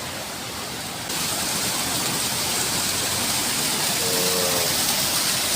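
Floodwater rushes down from a road in a constant, loud, close roar of broadband noise that swells slightly after the first second and never breaks.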